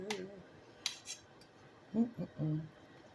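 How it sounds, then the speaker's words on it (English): A metal spoon clinks and scrapes against a pan while lamb chops are turned, a few sharp taps early and then several duller knocks close by in a quiet kitchen. "I don't know why I'm turning them with a spoon"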